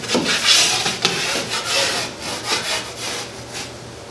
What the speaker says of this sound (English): You could scrape it out like this, or you could sand it.